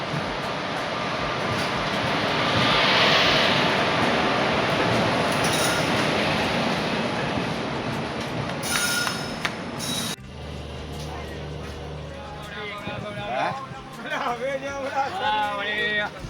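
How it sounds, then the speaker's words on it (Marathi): A train rumbles and hisses loudly alongside a platform with a brief brake squeal, then people chatter nearby once it settles. "तर आता ट्रेन आलेली आहे"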